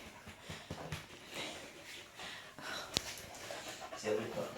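A dog pants in quick, breathy bursts close by, with faint rustling and a brief sharp click partway through.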